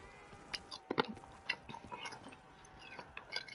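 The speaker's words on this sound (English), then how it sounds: "Do you hear me chewing on ice right now, bro?" Someone chewing on ice close to the microphone, faint irregular crunches and bites scattered over a quiet background.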